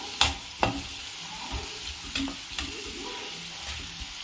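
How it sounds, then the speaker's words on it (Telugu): Onions frying in hot oil until golden for a chicken fry make a steady close sizzle, broken by a few dull scrapes and knocks of a stirring spoon in the pan, with no voices. "హీట్ అయిన తర్వాత ఆనియన్ వేసి బాగా గోల్డెన్ కలర్ వరకు వేయించుకోవాలి,"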